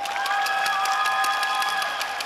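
An outdoor stage greeting at the Busan International Film Festival draws steady, dense applause from a large audience, with scattered cheers and a sustained high tone ringing through the crowd noise.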